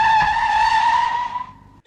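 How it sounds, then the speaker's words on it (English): A car brakes hard and skids, producing a single loud, high, steady tire squeal that lasts under two seconds, fades briefly and then cuts off abruptly. "Waldo swore and slammed on the brakes"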